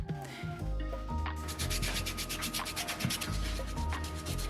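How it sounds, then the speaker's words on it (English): Steady, continuous rubbing and scraping of sandpaper against small baked polymer clay pieces, repeated strokes close by with no talking. "I'm just cutting them out with an X-Acto knife and sanding them"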